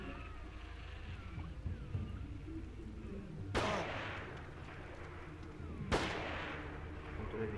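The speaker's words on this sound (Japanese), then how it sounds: "とりあえず威嚇で撃つしかない。" Two sharp, booming gunshots from the horror video game Siren ring out a couple of seconds apart over a low, murky ambient background, each leaving a short decaying tail.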